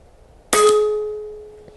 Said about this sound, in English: So you're just going to take a shot and see where it's landing.